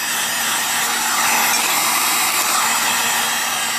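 A heat gun blows steadily on the back side of a Kydex knife sheath, a continuous close airy roar with a faint whine running unbroken throughout.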